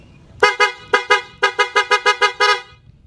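A loud horn on a Raider FI motorcycle blares in short bursts, two separate honks and then a rapid string of about eight quick toots, close and piercing.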